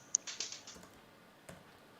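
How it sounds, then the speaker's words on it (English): A few light keystrokes on a computer keyboard, near and quiet, with a sharp first click and a short patter of taps followed by one more isolated tap; no voices. "I can type you something."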